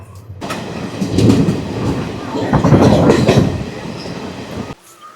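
A passenger train running from Sealdah to Rampurhat rumbles on its rails, with loud surging clatter and wheel noise swelling twice from inside the carriage before cutting off.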